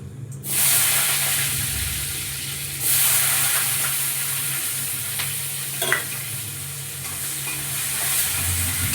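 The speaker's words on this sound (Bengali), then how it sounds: "পেঁয়াজের টুকরো মোটা মোটা করে কেটে নিয়েছি তেলের ওপর দিয়ে দিচ্ছি" Thick-cut onion pieces sizzle and crackle steadily in hot oil, a continuous frying hiss with a few brief clinks of stirring.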